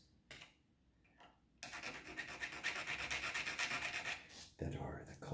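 Coarse rasping from a file taking the corners off a Seydel Saxony harmonica slide, starting with a few brief strokes, then a continuous scrape for about three seconds before a short pause and another stroke, all close and fairly quiet.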